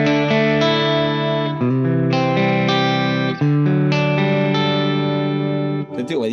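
Electric guitar played through a VOX MVX150H amp head set to the modern position, loud sustained distorted chords with a harmonically rich, saturated tone and brief pauses between strummed notes, with no talking.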